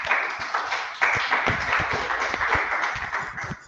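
A group applauds at a church gathering, a close burst of dense clapping that keeps an even level for a few seconds and tapers slightly toward the end, with no talking over it.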